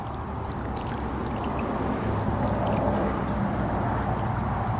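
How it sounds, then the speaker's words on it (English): Corn mash is stirred in a pot, a continuous low sloshing and swirling of thick liquid heard up close at a moderate level, with no talking. "Stir that stuff up."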